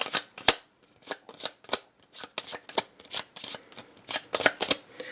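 A hand of playing cards being shuffled in a quick series of crisp riffles and snaps, close up and fairly loud, with brief pauses between bursts and no talking.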